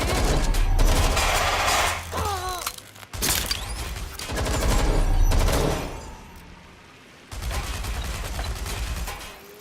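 Gunfire in the game Watch Dogs Legion: loud, dense bursts of shots and fusillades come in several waves with brief lulls between them, and a few short voiced sounds come through amid the shooting.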